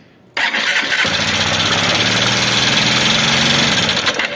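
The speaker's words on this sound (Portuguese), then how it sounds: "Tem como dar a última ligada" A Honda Bros 150 motorcycle with a noisy engine starts after a brief silence, catching quickly and settling into a loud, steady, close idle that continues to the end.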